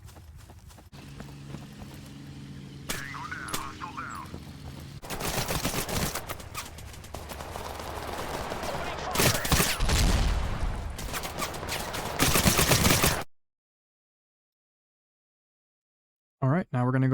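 Infantry gunfire in a real-time tactics war game: scattered shots give way to dense, rapid volleys and bursts of rifle and machine gun fire, loud and close, before cutting to silence and a brief return.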